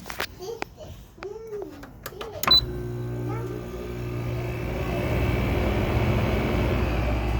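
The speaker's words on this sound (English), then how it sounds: "I'll get you guys the compressor startup." A small window air conditioner gives a few short control-panel beeps in a quiet room. Its compressor then kicks on with a thump and settles into a steady, low humming drone that grows slightly louder.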